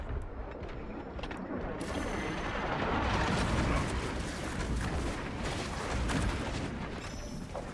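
A frag grenade blast in Space Marine 2, a loud rumbling explosion that swells after a brief quieter opening and rolls on with dense, gritty battle noise.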